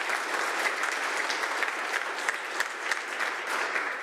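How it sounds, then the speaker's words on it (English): A room full of people in the Legislative Assembly of Alberta claps steadily, a dense, even patter of applause that holds for several seconds. "please join me in a round of applause."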